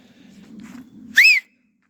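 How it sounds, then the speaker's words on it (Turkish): One short, shrill referee whistle blast rings out loudly during a football game after a low background hum, then silence. "Düdüğümüzü çalmış bulunmaktayız."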